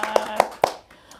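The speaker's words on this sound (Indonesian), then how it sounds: "Tepuk tangan dulu dong." A few sharp hand claps, about three in quick succession, close and distinct against a quiet room during a podcast recording.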